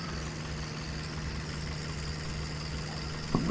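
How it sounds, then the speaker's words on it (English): A tractor engine idles with a steady low hum throughout, near and even, ending with a brief knock or clunk. "But another tractor for the collection."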